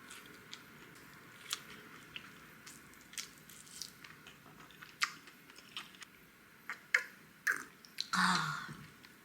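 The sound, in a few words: chewing Korean skewer pancake (kkochijeon)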